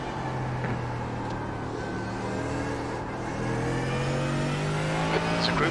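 A McLaren race car engine in the iRacing sim, an IMSA race at the Nürburgring, drones loudly and continuously, its pitch sliding down through gear changes and then climbing again as it accelerates.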